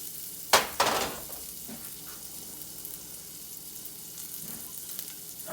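Pancake batter hitting a low-heat griddle, with a sudden burst of sizzling that fades into a steady quiet crackle; a couple of faint clicks follow.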